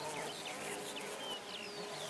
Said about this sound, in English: the sound of a garden just humming with life, full of bees and butterflies